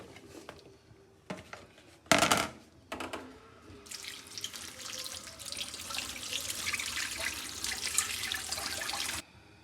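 Taro root being washed under a running tap, with a few sharp clunks at first, then a steady hiss of water splashing into a sink for several seconds before it stops.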